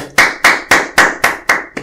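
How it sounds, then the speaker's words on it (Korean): Seven crisp hand claps ring out in a steady, even rhythm, loud and close with no voices. "일단 박수부터 칠까요?"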